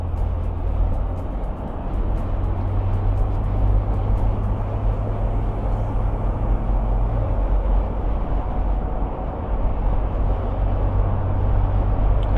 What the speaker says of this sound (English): there's some wind noise that creeps up when you start going. We're going about 60 miles an hour